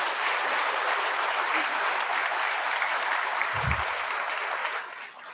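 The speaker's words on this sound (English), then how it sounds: "A big round of applause to all of you." Steady applause from a crowd at an IPO bell ringing ceremony, fairly loud and sustained, with a brief low thump near the end before it begins to fade.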